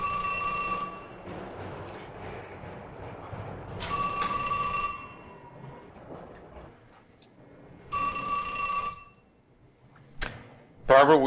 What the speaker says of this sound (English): will you answer the phone, please?